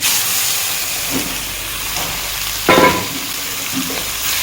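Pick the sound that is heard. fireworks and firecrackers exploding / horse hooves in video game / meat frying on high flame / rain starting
meat frying on high flame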